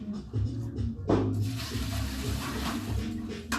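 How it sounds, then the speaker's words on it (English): Warm water sloshing in a bucket where resin pieces were left sitting, with splashes and a continuous watery churning close by, with no speech. "you hear water because this is what I had it sitting in"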